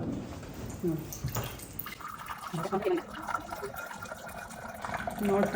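Steaming hot water gushes steadily from a tap, a continuous splashing flow with some clatter and a voice speaking over it.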